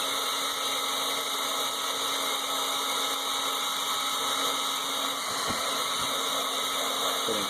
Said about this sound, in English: I'm going to try it out on some plastic here